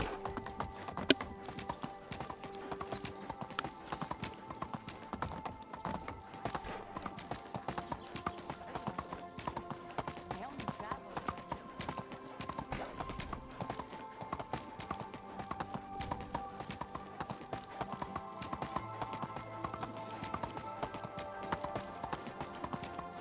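A donkey's hooves clip-clop in a rapid, steady rhythm throughout a video game, light and continuous over a bed of game music and ambience, never pausing.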